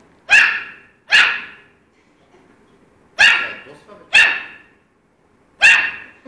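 A dog gives five sharp, loud barks in irregular bursts with quiet gaps between them, close to the listener, and no growl stands out clearly.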